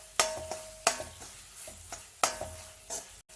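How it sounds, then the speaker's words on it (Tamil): Spoon stirring chilli powder and spice powders into a taro root gravy, a few sharp scraping strokes against the pan at irregular intervals over a soft simmering sizzle, close and moderately loud with no talk. "இதை சேர்த்து இதில் உள்ள பச்சை வாசனை போகிற வரைக்கும் ஒரு 1 நிமிஷம் கிளறி விடணும்."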